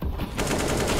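Rapid automatic gunfire in Counter-Strike during a pro match round, a sustained loud burst of shots starting after a brief quieter moment.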